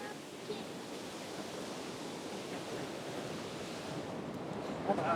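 Sea waves from an incoming tide at a seascape shoreline wash in as a steady, loud roar of surf that stays close and continuous throughout.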